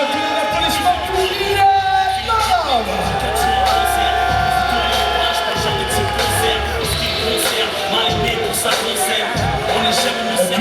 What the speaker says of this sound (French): Mesdames, messieurs, tous les applaudissements pour